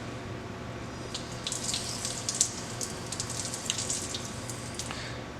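Water and air spit and hiss out of a backflow test gauge on a double check valve assembly, a faint, irregular sputtering spray with small bursts over a low steady hum.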